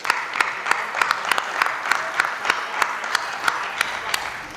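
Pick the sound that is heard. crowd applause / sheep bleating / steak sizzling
crowd applause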